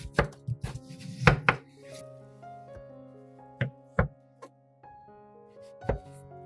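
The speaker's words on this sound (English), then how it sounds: "Cut the watermelon pieces one by one." A knife cuts a watermelon into strips, striking the board in a handful of sharp, separate thunks spaced unevenly, set against soft background music.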